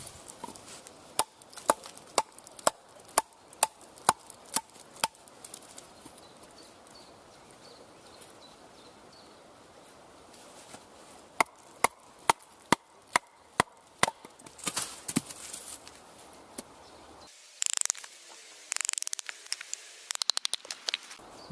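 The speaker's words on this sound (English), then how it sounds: "that's chopping a lot better" Sharp, regular chopping strikes of a reground Selvans knife blade into wood, one after another in steady rhythm, with a brief scuffing pause and rougher hits near the end.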